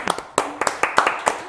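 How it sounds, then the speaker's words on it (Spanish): A small group applauds a young man after a magic trick on a talk show, with sparse, distinct hand claps in an uneven rhythm, close and fairly loud, with a voice faintly underneath. "¡Aplauso para el joven!"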